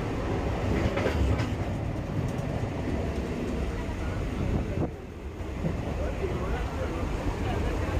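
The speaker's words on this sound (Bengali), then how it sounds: "রবিবার থেকে এই ট্রেনটা চালু হয়েছে" A Siuri–Sealdah MEMU train rolls along the rails with a loud, steady rumble and rattle heard from inside a fairly crowded carriage, with faint clicks and a brief dip in the noise midway.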